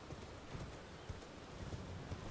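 Horse hooves clip-clopping in the video game Elden Ring, a faint rhythmic run of soft thuds over a windy outdoor ambience.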